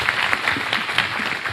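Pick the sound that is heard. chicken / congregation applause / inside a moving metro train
congregation applause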